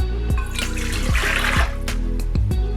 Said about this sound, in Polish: Do robota z końcówką haka wlewam wodę z cukrem i solą,